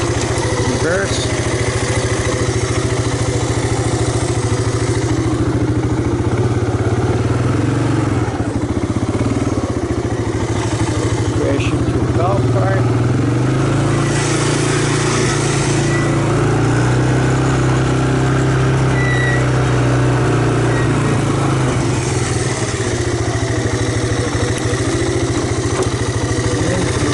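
A mint 1985 Honda Big Red 250ES ATC three-wheeler runs steadily at a low, droning idle, loud and close, with wind buffeting over it throughout.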